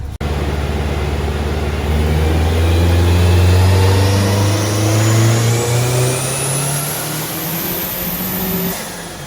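A turbocharged car fitted with a brand-new FP Green turbo revs hard and close by, its engine note climbing steadily in pitch over several seconds with a rising turbo whine. The noise stays loud and continuous, and no one speaks.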